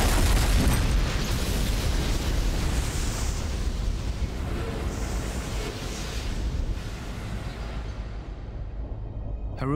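A big, sustained roaring blast of a bomb exploding aboard an Air India jetliner in flight, a dense wall of noise that holds loud for several seconds before thinning and fading away at the end.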